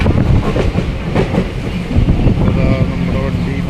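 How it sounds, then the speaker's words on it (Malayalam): A train departs Kalamassery station in Kochi, a steady loud rumble of rolling wagons with rhythmic clickety-clack of wheels over rail joints, close by and continuous throughout. "അതാ നമ്മുടെ വണ്ടി നമ്മുടെ സ്വന്തം ഈ കളമശ്ശേരിയുടെ ഡിപ്പാർച്ചർ കാണാം"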